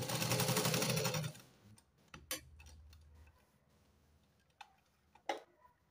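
A sewing machine stitches the lining of a katori blouse, a dense rapid run of needle strokes for about a second, then quieter scattered ticks and clicks of handling the fabric.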